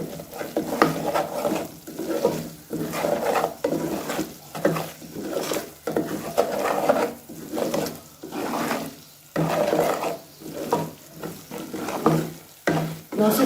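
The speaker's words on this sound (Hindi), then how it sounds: "अब इन सब चीज़ों को अच्छी तरीके से मिक्स कर लें।" Chilli, dried coriander and cumin are stirred together in a pan for an egg malai korma. Rhythmic scraping strokes of a spoon sound over a soft sizzle, with short pauses between strokes.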